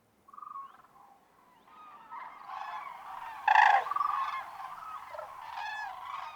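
Cranes call from the shallow waters of a misty lagoon at dawn in January, a series of loud honking and trumpeting cries from several birds, rising and overlapping, with one especially strong burst midway.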